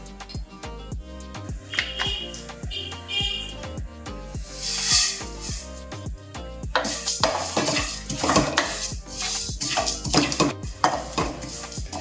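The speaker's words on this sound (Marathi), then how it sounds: "तर सर्वात आधी या सर्वांना आपण व्यवस्थित भाजून घेऊया." Spices and garlic are dry roasted and stirred in a kadhai, with a metal spatula clattering and scraping against the pan in quick irregular strokes and a soft sizzle rising partway through.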